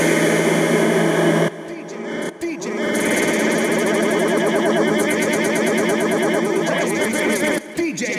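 Backward granular grains from a Vengeance Avenger synthesizer form a dense, shimmering wash of rapid, stuttering tones that fill the whole clip, with brief dropouts and re-entries near the start and end.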